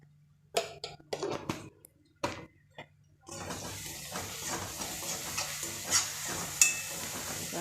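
Egg gravy ingredients sautéed and stirred in a pan: a few sharp scraping clatters, then a steady, close sizzling hiss with occasional stirring scrapes.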